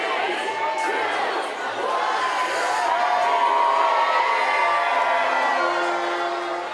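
Dense, continuous crowd noise from people celebrating New Year, cheering and shouting together, with scattered whoops and children's voices rising over a steady roar that stays loud and close throughout.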